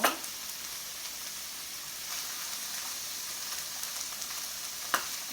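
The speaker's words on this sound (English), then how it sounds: "I'm going to saute that for a little bit until it" Garlic sautés in a pan, a soft steady sizzle close by, with a few light clicks from stirring at the start and near the end, and no talk.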